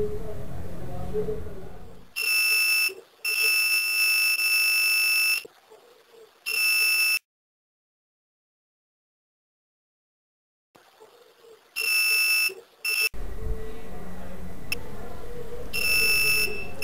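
An analog multimeter on its continuity buzzer setting sounds a loud, steady electronic tone several times as the probe wires are touched together, each beep lasting from a fraction of a second to about two seconds, with silent gaps between.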